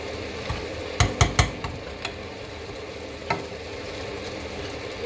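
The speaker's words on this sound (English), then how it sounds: "So I'm now just frying it." Spices frying in oil in a pan for Goan pork vindaloo, a steady soft sizzle broken by a few sharp clinks of a stirring spoon near the start, heard close with no talking.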